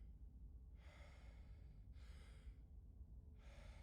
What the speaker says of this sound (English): It was breathing really heavy.